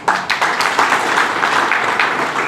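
A room of lawyers at a bar association gathering claps steadily to welcome a guest, the dense clapping close and continuous for a couple of seconds.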